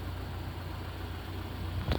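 A car sits idling after a factory remote start, giving a steady low engine hum with little change. A brief knock or thump comes near the end.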